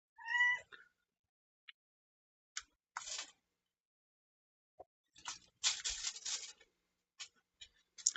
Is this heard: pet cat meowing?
yes